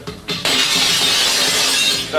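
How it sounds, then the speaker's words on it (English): A pane of window glass is smashed: a sharp crash and then a sustained bright shatter of falling shards for about two seconds, loud and close, with no talking. "I smashed the window."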